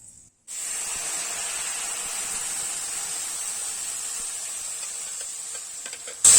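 Onion tomato paste poured into a hot pan with mustard seeds and dried chillies sets off a loud, steady sizzle that starts abruptly and continues close up without pause.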